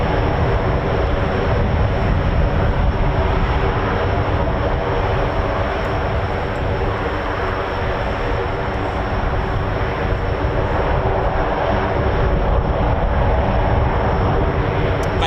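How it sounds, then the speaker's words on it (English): KC-135 and MC-130J military aircraft at RAF Mildenhall give off a loud, unbroken engine roar that holds steady throughout without any clear peaks. "So it sounds like we've got a KC-135 and an MC-130J"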